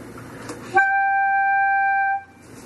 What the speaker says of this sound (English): That front E is like fingering a G